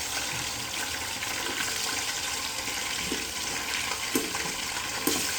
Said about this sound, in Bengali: পানি